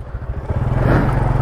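A borrowed motorcycle's engine runs close by with a rapid low chug that builds and revs up toward a steadier, louder drone.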